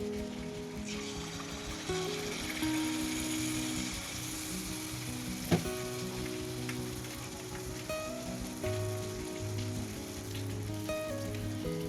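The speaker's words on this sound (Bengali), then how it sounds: "তেলটা গরম হয়ে গেছে এবার মালপোয়াটা একটা করে ছাড়ছি" Malpua batter drops into hot oil and fries with a continuous crackling sizzle, one brief sharp knock midway, all beneath steady background music.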